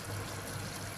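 Water pours into a simmering meat curry, a brief continuous close gush and trickle.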